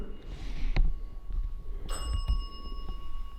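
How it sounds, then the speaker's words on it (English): A single bell strikes once inside the abandoned Indiana State Sanatorium tuberculosis hospital, its clear tone ringing on and fading slowly against faint room noise and scattered knocks. "did you hear the bell?"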